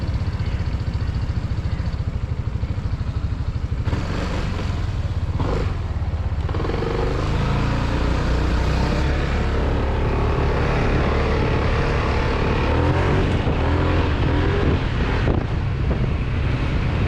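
A BMW C 400 GT or Yamaha XMAX 300 maxi-scooter engine running on the road, a loud steady drone mixed with heavy wind buffeting against the microphone, with no talking.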